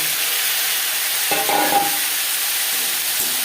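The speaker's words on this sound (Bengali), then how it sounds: "পাঁচফোড়ন থেকে যখন একটা ভাজা ভাজা গন্ধ বেরোতে শুরু করে দেবে সেই পর্যায়ে দিয়ে দেবো বেগুন" Eggplant sizzles in hot oil tempered with panch phoron five-spice for a low-oil bhangor fish curry; a steady close hiss runs throughout, with a short burst of stirring clatter in the middle.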